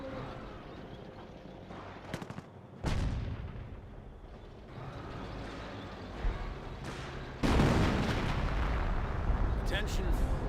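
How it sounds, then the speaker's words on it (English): Artillery fire in Company of Heroes rolls across a battlefield, heavy booming impacts and blasts arriving irregularly with gunfire between them, under a commentator's talk. "Artillery running in the center as well."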